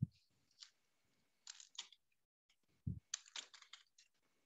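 A computer keyboard is typed on in short, quiet bursts of crisp key clicks with pauses between clusters, close-up and faint, with no one talking.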